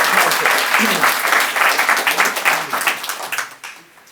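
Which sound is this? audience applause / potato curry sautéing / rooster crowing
audience applause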